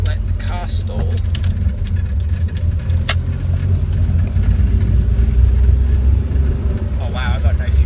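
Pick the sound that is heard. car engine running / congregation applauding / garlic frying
car engine running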